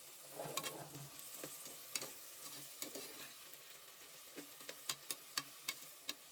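Vegetables and tomato frying in a pan at home: a steady sizzle under scraping stirs, with a run of sharp spoon clicks against the pan growing more regular toward the end. No voices.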